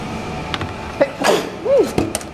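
A single sharp sneeze bursts out near the middle of a short indoor moment, close and fairly loud, among a few small handling sounds.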